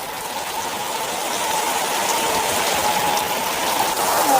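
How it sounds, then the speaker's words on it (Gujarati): Heavy rain pours down with wind, a continuous loud hiss of drops on surfaces that holds steady and swells slightly over the seconds, with no voices. "ફૂલ વરસાદ ચાલુ છે મિત્રો"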